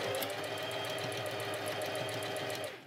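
A sewing machine runs steadily, stitching pleated lolita skirt pieces together with a fast, even mechanical whir for about three seconds. No one speaks.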